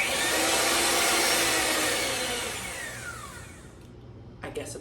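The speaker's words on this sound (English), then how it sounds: "My handy dandy mixer down here." An electric mixer beats avocado oil and sugar in a bowl, a loud whirring drone that gradually softens and then cuts off, followed by a few faint clatters.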